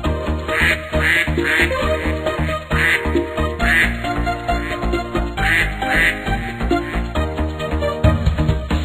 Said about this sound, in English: The ducks said quack, quack, quack, quack